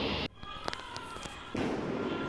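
Diwali fireworks and firecrackers going off outside a home, heard as a few sharp, scattered pops and crackles at a middle distance between bursts of broadband noise.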